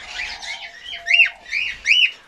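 Red-rumped parrots and cockatiels in an aviary, a few close chirps and whistled calls in quick succession against a quiet background.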